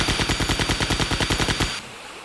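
M249 machine gun primary fire in the video game Hellforces: a rapid, even burst of about fifteen loud, close shots that stops abruptly and leaves a short fading tail.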